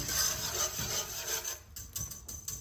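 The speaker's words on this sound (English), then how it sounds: "I'm going to put that on the fire. And I'm going to stir that for just a second." A spoon scrapes and rubs around a pot of cream cooking on the stove, a steady close rasping scrape that fades to softer, intermittent strokes toward the end.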